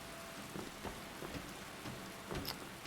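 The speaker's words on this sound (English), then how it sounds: "I think I can hear rain. Yep, that is rain." Rain falling in the video game Skyrim, a quiet steady patter with scattered soft drop hits, faint and continuous with no talk.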